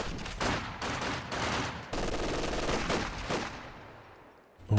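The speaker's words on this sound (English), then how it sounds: "now we're going to test the new Conscript cover bonus in a long-range firefight" Sustained rifle and light machine gun fire crackles in a long-range firefight between Conscripts and LMG Grenadiers in Company of Heroes 2, with overlapping bursts and shots at moderate volume.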